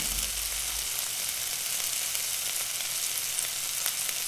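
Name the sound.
chicken filling sautéing in a pan for spring rolls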